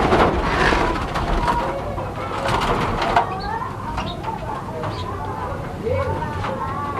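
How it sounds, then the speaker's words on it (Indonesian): Caged munias and zebra doves call inside a small home aviary, with soft coos and chirps over a steady background hum. "Jadi ada burung emprit sama burung perkutut cuy"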